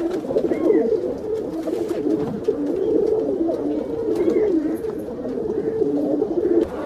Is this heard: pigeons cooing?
yes